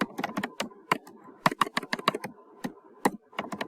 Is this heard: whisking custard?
no